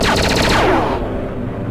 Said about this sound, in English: So let's give the Callisto a try. This is the primary fire.